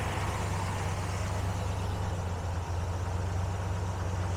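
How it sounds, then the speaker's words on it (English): A 1958 Ford F-100 Styleside pickup with a freshly rebuilt 292 Y-block V8 idles steadily, a smooth, even low hum with no ticking or hunting, heard up close and alone. "Really a silky smooth idle."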